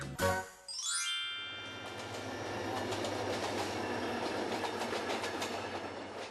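A train arriving at Gimyujeong Station near Chuncheon, South Korea, rumbles steadily with a rising mechanical whine at the start, then a continuous rolling hum and faint clicking, heard from nearby and fairly quiet.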